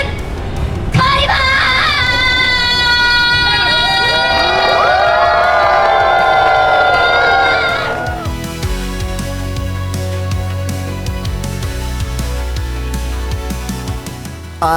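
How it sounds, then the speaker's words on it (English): A large convention crowd at Anime Expo roars and cheers during an Excalibur shouting contest, loud and sustained with a long held shout over the noise, then fading into excited murmuring and scattered voices. "She guest starred for an Excalibur shouting contest."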